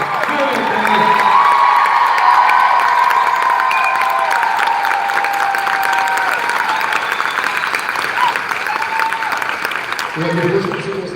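Audience applause at a Supernatural fan convention in Chicago, a dense sustained clapping crowd with scattered cheers and whoops, loud and steady throughout, fading slightly near the end.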